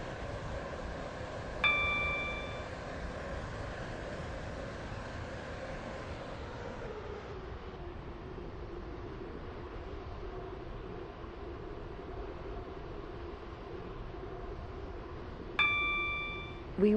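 A Roblox Stepford County Railway train on the Waterline service to Benton runs with a steady rumble that eases into a quieter roll midway, with bright chimes near the start and end.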